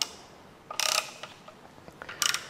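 A part on a Kia/Hyundai engine is tightened down during a head bolt repair: two short bursts of rapid ratchet clicking separated by faint scattered taps, close and quiet.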